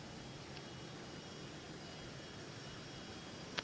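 A Phenom 100 jet in Flight Simulator 2020 gives off a steady, broad engine rush and whine, quiet and even throughout with no talking.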